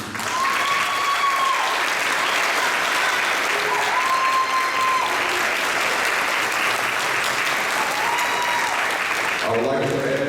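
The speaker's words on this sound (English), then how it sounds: "I would like to add this evening a bigger round of applause." An audience gives sustained, steady applause for the Region 168 championship team and their coaches at an evening ceremony, loud and continuous for about ten seconds, with a voice briefly over it near the end.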